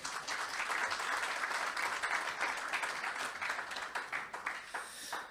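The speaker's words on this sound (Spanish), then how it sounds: "con un fuerte aplauso desde Madrid recibimos a Ramón" An audience applauds to welcome a speaker at an anniversary festival event, a dense, steady wash of clapping that fills the whole stretch at even loudness and tapers slightly at the end.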